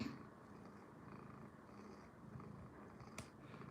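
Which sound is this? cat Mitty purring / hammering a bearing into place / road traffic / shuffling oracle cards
cat Mitty purring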